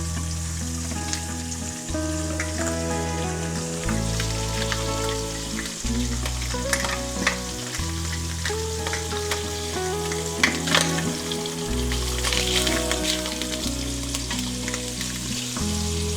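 Frozen leftover abalone fries in butter, giving a steady, loud close-up sizzle with light spatters and occasional stirring that continues throughout.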